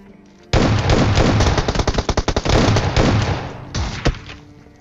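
Rapid, loud shotgun blasts from a PUBG Mobile firefight, a dense volley of overlapping booming shots followed by a few separate reports toward the end, with no talking.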